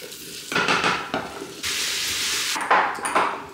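Rice and lentils sauté in oil, butter and tomato paste, giving a loud, steady sizzle close by, broken by scraping stirs and rising in bursts toward the end.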